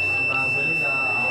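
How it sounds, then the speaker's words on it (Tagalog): A multimeter's continuity buzzer sounds a continuous unbroken tone while checking a shorted capacitor, steady and close over faint background noise. "Pag continuous ang beep, shorted yan."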